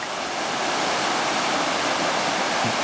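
Rushing water of a river on Panther Creek pours through a rocky channel, a loud, steady, close roar of broadband flow with no voices.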